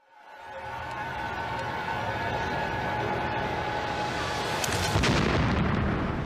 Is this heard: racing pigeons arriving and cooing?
no